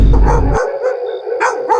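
Dogs bark in loud, close bursts, several sharp yaps spread over a couple of seconds with a droning background, and no talking.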